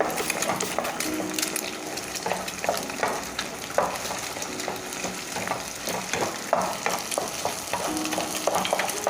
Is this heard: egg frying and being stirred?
yes